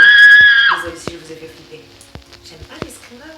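A woman's scream rings out loud and close at the start, sustained for under a second, then gives way to faint crackling and scattered clicks like an old gramophone record.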